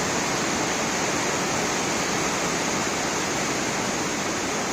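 Petrol draining out of a carburettor on an engine being converted to LPG or CNG, a continuous dense rushing hiss of flowing liquid, steady and close without any voices.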